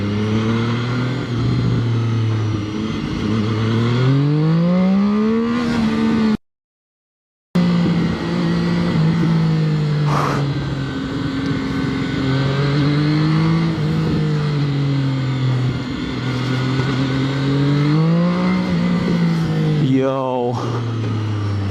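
A Zhang Xue 820RR motorcycle engine revs up hard while riding, its pitch climbing and dropping through repeated throttle surges and gear changes. The sound is loud and close, with a brief dropout midway and a final sharp rev.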